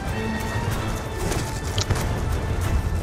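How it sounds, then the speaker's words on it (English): Rhythmic hoofbeats of a galloping horse over a busy, noisy game soundscape with clattering effects, from Call of Duty: Black Ops 2 campaign. "While riding horseback."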